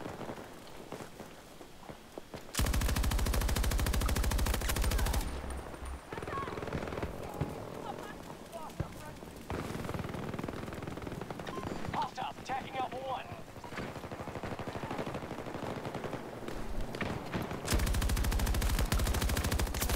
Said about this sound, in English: the PKP on a bipod is insane